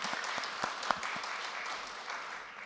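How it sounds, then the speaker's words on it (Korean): Brief applause rises from a congregation during a Sunday worship service, fairly soft and distant, a scattered patter of many hands with one sharper clap standing out. "우리 하나님께 영광의 박수를 올려드리겠습니다."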